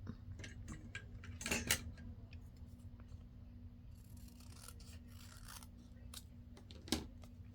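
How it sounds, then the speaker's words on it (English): Scissors trimming the bottom edges of paper inserts for a 12x12 flip book craft project, a few quiet snipping and rubbing sounds close by over a low steady hum, with a sharper cut near the end. "So I'll just trim the bottoms off a little tiny bit."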